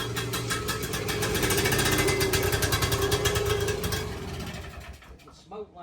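A two-stroke engine catches and runs, a rough, buzzing close-up drone that holds steady for several seconds before dropping off, with voices talking over it.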